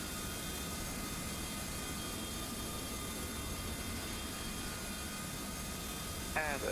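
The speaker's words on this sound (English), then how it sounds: "Got another aircraft coming in." An A310-300 airliner arriving in a flight simulator game produces a steady, unbroken engine drone at moderate volume, with a brief higher blip right at the end.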